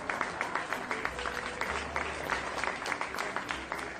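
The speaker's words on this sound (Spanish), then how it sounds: "Las personas aplauden a nuestro paso" Crowd in Lombardy, Italy, applauding a passing Cuban medical brigade: steady, dense clapping from many people throughout, moderately near, with a low rumble underneath.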